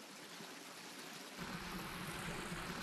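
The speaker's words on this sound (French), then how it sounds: "C'est incroyable de voir autant d'eau s'écouler dans la nature." Water gushes out of a well and runs off into open countryside, a steady rushing flow that swells louder and fuller partway through and continues without pause.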